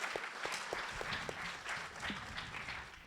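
Faint applause ripples through the audience at a live Gymkhana GRiD press conference, a soft, continuous wash of clapping heard from a distance, with a few brief voice fragments poking through.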